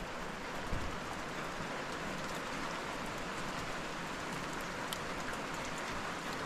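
Morning rain falls steadily on a mountain village, a constant soft hiss of drops with no break and faint scattered ticks from drops striking nearby surfaces.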